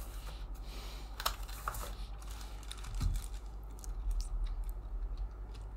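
Soft, muted tapping on a Dell KM3322W wireless membrane keyboard, quiet keystrokes in an uneven stream under a faint steady background hum, with no voices.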